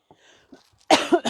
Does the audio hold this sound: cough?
yes